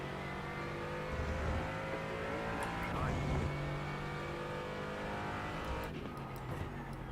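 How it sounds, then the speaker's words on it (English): A race car engine drones loud and steady in a racing video game as other cars pass close by, with a voice talking faintly under the continuous motor whine. "There's a faster class car approaching."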